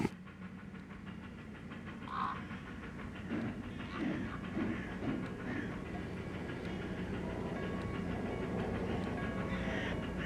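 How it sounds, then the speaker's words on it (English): A train pulling away from a platform in the 2000 point-and-click game Monet: The Mystery of the Orangery, bound for Paris: a low, steady rumble with faint rhythmic rail clatter, fairly quiet throughout, with no talk. "The train to Paris is leaving the platform."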